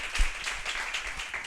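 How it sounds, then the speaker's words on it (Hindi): A church congregation claps together during a Sunday worship service, a dense, steady patter of many hands lasting a moment with no voices over it. "ताली बजाए प्रभु के"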